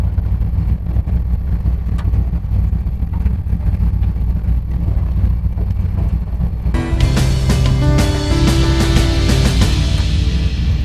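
A street rod engine rumbles low and steady through a 3-inch stainless exhaust, a close, continuous throb with wind noise, then a louder, brighter stretch near the end.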